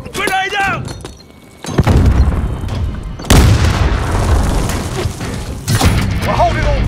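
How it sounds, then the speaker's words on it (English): Grenade blasts go off in a Call of Duty Modern Warfare match, with deep booming explosions and debris bursts layered over constant gunfire and battle noise, while a voice shouts a callout. "Grenade out!"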